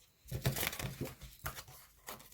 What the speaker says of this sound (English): I think that was like the worst shuffle ever.